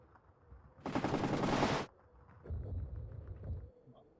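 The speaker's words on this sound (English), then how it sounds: "the heavy machine gun is engaging the BTR-60 PB" A heavy machine gun in the WARNO war game fires on a BTR-60 PB armoured vehicle in a sharp, rapid burst of about a second, followed by a lower rumbling stretch of distant fire.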